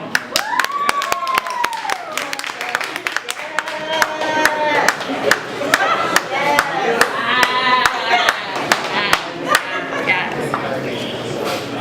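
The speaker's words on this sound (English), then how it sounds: "give her another round of applause" Scattered audience claps crackle through a poetry reading, irregular and close, mixed under steady talking from the stage.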